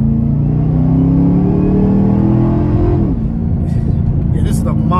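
Supercharged engine of a 2013 Chevrolet Camaro ZL1 roars close and loud under acceleration, its pitch climbing steadily before dropping at a shift, with people talking in the cabin over it.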